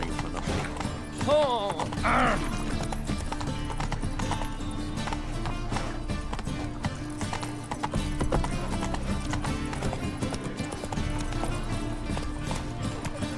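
Hooves clip-clop at a steady trot as Roach moves through The Witcher 3, with a short whinny early on, all set against game music and sound effects while someone talks over it.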